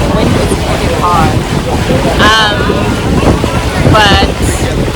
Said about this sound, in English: The wind is pretty hard.